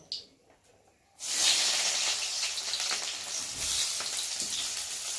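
Chopped onions tipped into hot oil in a kadai: after a second of near quiet a loud, close sizzle erupts and settles into a steady frying hiss with light crackling.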